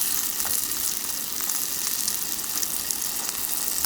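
Rice paper cabbage and egg cake fries in a pan over high heat, giving a steady, close, bright sizzle with small crackles and pops throughout.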